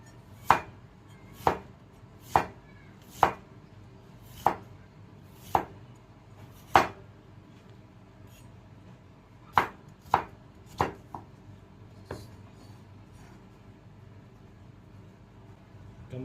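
Ginger is chopped on a cutting board for native chicken tinola: about a dozen crisp, close knife strikes in a fairly even rhythm, with a brief pause midway and a few lighter taps at the end.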